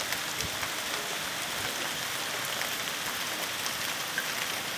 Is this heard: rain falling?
yes